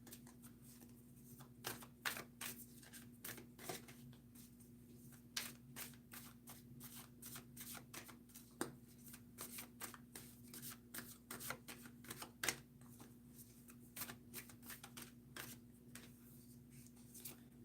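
Tarot cards are shuffled close up in a quiet room: a long run of soft, rapid riffles and snaps at irregular intervals over a faint steady hum.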